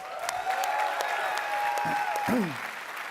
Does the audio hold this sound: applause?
yes